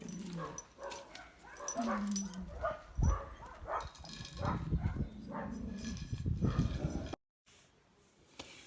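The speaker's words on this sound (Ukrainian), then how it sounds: "Песик на мене гавкає." A small dog at a village house in the Kyiv region barks repeatedly in quick, yappy bursts mixed with yips and whimpers. It is fairly close, and the sound cuts off abruptly near the end.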